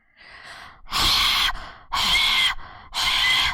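A voice imitating heavy breathing like an obscene phone call, three loud, breathy rasping exhalations in a steady rhythm, close to the microphone, with softer breaths between them.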